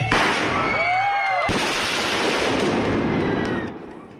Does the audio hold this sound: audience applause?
no